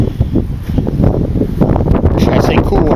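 Cold wind buffeting a microphone outdoors, a loud continuous low rumble with gusty surges, while someone talks over it close to the mic.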